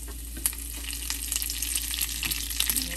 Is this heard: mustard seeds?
yes